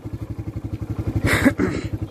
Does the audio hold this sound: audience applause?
no